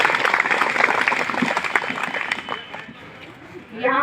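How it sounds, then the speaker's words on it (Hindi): Farmers in Fatehpur, gathered at a meeting, give an official a loud burst of applause that fades out over a few seconds, with a crowd murmur under it. "आप लोग हमारे महोदया का जोरदार तालियों से स्वागत भी कर दीजिए।"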